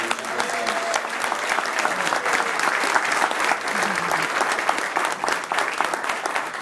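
A crowd at a local selectman campaign event breaks into sustained applause, dense continuous clapping filling the room at full volume for several seconds.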